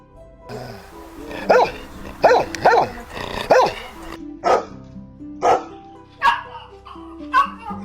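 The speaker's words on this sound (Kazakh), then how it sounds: "Ит." A dog barks repeatedly in distinct, evenly spaced loud woofs, several in a row, with a brief whimpering or yipping quality between some barks; no talk.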